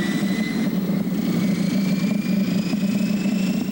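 Aircraft engines running steadily after the starter catches, a continuous loud drone with a low rumble and a faint rising whine, alone with no talk.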